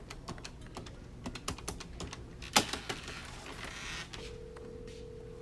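A telephone is dialed with a quick run of close, crisp clicks and key presses, then a steady tone sounds near the end.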